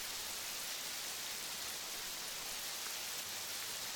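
Rain falls steadily in the 12 Hours to Die video game, a faint, even hiss that holds unbroken with no voices.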